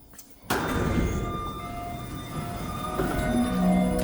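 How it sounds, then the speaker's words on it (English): A REM light-rail train arrives at a station between Brossard and Canora at night with a sudden loud rumble, steady clatter and a few high metallic wheel squeals as it slows, close by with no voices. "here comes the train now"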